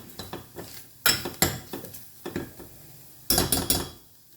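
Chilli powder frying on a low flame while a spoon stirs it, giving repeated metallic scrapes and taps against the pan in bursts over a soft sizzle, close and clear.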